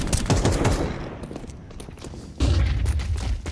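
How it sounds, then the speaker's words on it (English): Rapid pistol gunfire from a professional Counter-Strike esports match crackles in quick bursts, loud at first, easing off, then returning with a heavier thumping barrage. "Well, it's pistols, actually."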